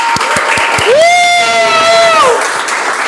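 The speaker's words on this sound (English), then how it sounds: "Everybody, I want the loudest applause." Toastmasters club audience at an officer installation meeting applauding and cheering, a loud continuous wash of clapping with a rising whoop and cheer over it, lasting the whole moment.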